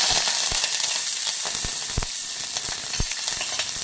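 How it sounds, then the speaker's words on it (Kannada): Green chillies and curry leaves frying in hot oil for a radish stir-fry, producing a loud, constant sizzle with sharp crackles and pops at irregular intervals and no voices. "ಹಾಕಿ ಫ್ರೈ ಮಾಡಿ ನಂತರ ಕಡಲೆಬೇಳೆ ಹಾಕಿ ಕೆಂಬಣ್ಣ ಬರೋವರೆಗೂ ಉರಿಯಿರಿ"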